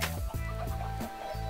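Minecraft chickens cluck in short, repeated bursts over steady game background noise, several birds close together in quick succession.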